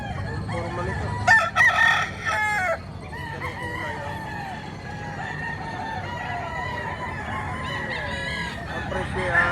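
A rooster of a gray fighting-cock breed, about three years old, crows at a poultry market, with a few loud bursts early and steady crowd murmur and bird noise behind.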